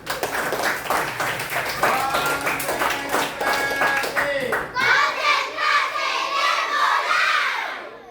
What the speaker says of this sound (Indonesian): Tepuk Tepuk tangan.